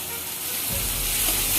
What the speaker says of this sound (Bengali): এবারে মশলাগুলো সব ভালোভাবে ভাজা ভাজা করে কষিয়ে নেব।